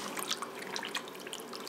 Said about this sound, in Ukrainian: Спершу велика кількість води наливається в прозору ємність